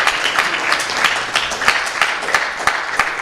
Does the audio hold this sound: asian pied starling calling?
no